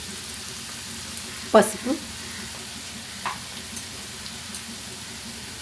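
Onions fry in a hot pan with a continuous sizzle, broken by a couple of louder scraping stirs and a few lighter clinks; a voice speaks briefly over the frying.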